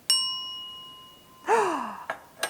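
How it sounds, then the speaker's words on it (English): A classroom bell is rung once, giving a clear ringing tone that fades slowly, followed by brief rustling and breath-like sounds. "then I'll ring the bell one time"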